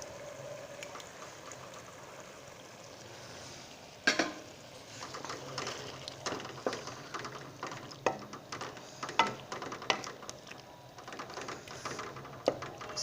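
Beef qeema with peas and yogurt frying and being stirred in a pot, a steady sizzle under repeated scraping clinks of a spoon against metal that pick up after the first few seconds.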